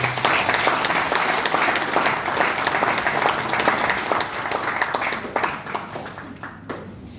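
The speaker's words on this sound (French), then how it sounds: "Mesdames, Messieurs, vous pouvez bien applaudir." An audience applauds the Indomitable Lionesses, Cameroon's women's football team, at a ministerial send-off before the FIFA Women's World Cup in France: dense, sustained clapping from many hands, loud and steady, thinning slightly near the end.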